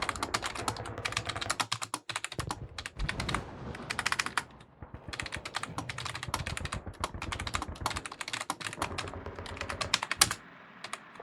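Rapid, continuous clicking of fingers typing on a computer keyboard, close and clear, with brief pauses between bursts of keystrokes and no talking.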